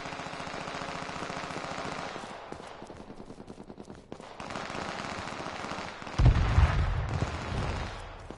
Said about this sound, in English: Shots here. Like a lot.